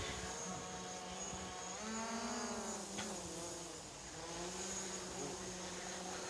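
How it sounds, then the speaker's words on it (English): A camera drone flies overhead at an outdoor competition, giving a continuous high whining buzz with wavering pitch that rises and dips, moderately close and steady throughout. "For those of you hearing a strange buzzing noise, that is not a swarm of bees above me. It is a drone."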